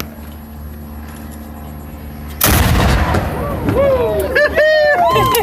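A historic cannon at the St Augustine fort is fired with a lintstock, giving one sudden loud blast over steady outdoor ambience, followed by a long rumbling echo while high bird or insect chirps rise in the background.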